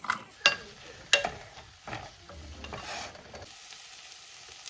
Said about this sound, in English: add the onions.